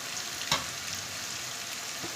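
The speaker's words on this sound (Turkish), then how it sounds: "pazar sabahlarının olmazsa olmazı patates kızartmamızı yapıyorum" Potatoes fry in a pan with a soft, continuous sizzle and one brief stirring clatter, faint and without talk.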